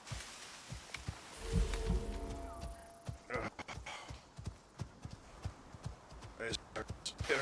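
Horse hooves clop in the video game Icarus, a run of uneven thuds and knocks coming and going, moderately close, with other game sounds around them.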